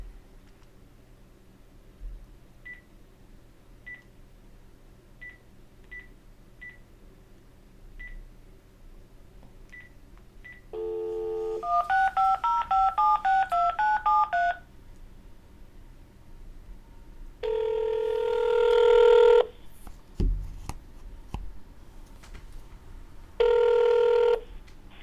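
A phone dialed to make a call: a faint string of short beeps, then a burst of rapid dial tones, followed by two long ringback rings with a gap, heard alone with no talking.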